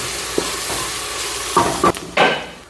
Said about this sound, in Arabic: أول حاجة بنزل زيت الزيتون وبصل أبيض. أطبخ البصل شوية حتى يبدأ يتغير لونه